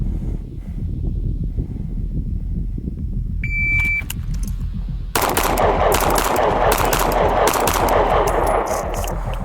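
Pistol shots ring out during a doubles shooting drill on a range, a loud burst of sharp, closely spaced cracks arriving after a quieter stretch of handling noise and a brief electronic beep.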